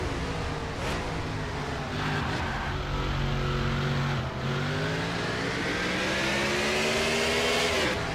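Stock cars racing at Estoril in a NASCAR video game, with a steady multi-car engine roar rising and shifting in pitch as they pass through a crash melee, loud and continuous without talk.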